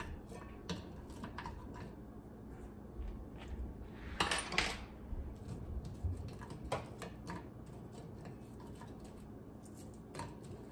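Sausage rolls turned over in a small pan on middle heat: scattered clinks and scrapes of a utensil against the pan over a quiet sizzle, with one louder rattling clatter in the middle.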